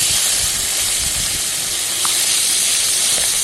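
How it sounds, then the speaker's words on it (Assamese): Oil heating and smoking in a wok before fish is fried, a steady close hiss with soft crackles throughout. "এফালে কেৰাহীখন পাতি থৈছিলোঁ, তেল গৰম হৈ গ'ল, ধোঁৱা ওলাই গৈছে। মাছখিনি ফ্ৰাই কৰি ল'ম।"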